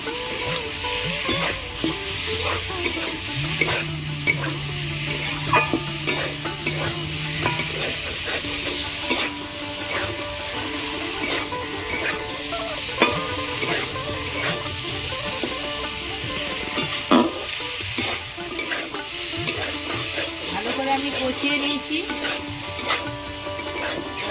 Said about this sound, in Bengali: মশলার সাথে আলু ফুলকপি দিয়ে আমি ভালো করে আবার কিছুক্ষণ ধরে কষিয়ে নেব